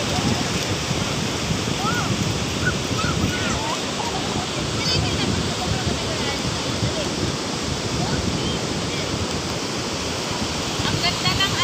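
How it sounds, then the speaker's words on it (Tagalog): Strong ocean waves surge and break continuously at San Fabian Beach in Pangasinan, a loud steady roar of surf with wind buffeting the microphone and no clear pauses. "Malakas ang alon pero okay lang."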